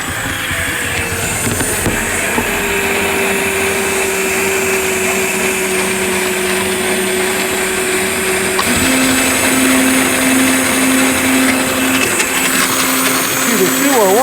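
Gator HPX utility vehicle running in reverse with one noisy gearbox, a loud steady mechanical whine and rumble that shifts pitch partway through, with a voice speaking over it.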